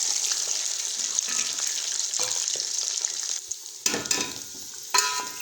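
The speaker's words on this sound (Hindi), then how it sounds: "अब हम इसमें ये आलू डालेंगे। इसको अच्छी तरह से ऐसे 2 मिनट फ्राई करेंगे।" Potatoes fry in a pan and are stirred, with a steady, close sizzle throughout and a few sharper scrapes and clinks of the spoon toward the end.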